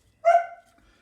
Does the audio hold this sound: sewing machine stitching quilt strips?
no